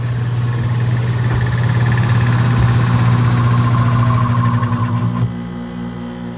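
Failing motor in a Dometic RV air conditioner, running with a loud steady hum and a rough, wavering vibration before abruptly winding down near the end, close and alone.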